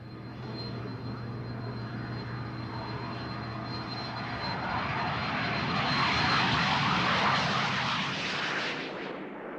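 A Soviet L-29 jet trainer takes off, its engine whine building into a loud roaring rush that peaks and then begins to fade.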